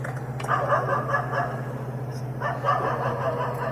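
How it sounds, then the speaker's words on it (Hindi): Dogs bark in a few soft, distant bursts over a steady low hum, faint and somewhat muffled, with no talk. "एक तो कुत्तों की आवाज़ है"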